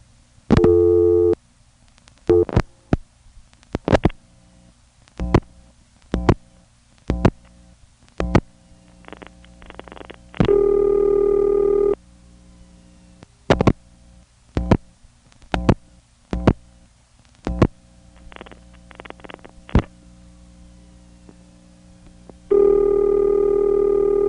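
A 1977 telephone exchange line pulse-dials through pulse repeaters, with sharp rhythmic clicks in groups separated by pauses and long steady ringing tones, loud and close.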